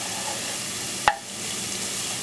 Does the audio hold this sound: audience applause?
no